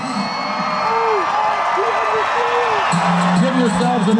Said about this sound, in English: Give yourselves an extra cheer and congratulations.